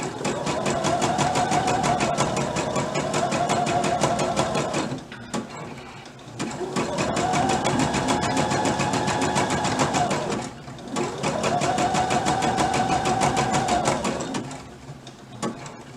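A sewing machine stitches through fabric and doubled elastic in three long, steady runs of loud, even mechanical whirring and clatter, separated by short pauses.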